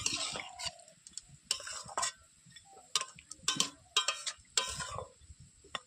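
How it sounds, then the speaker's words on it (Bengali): Chicken curry stirred in a pot over a wood-fired stove with a spoon, giving irregular close scraping and clacking strokes over a soft bubbling simmer. "দিয়ে চলো এবার একটু নেড়ে দিই"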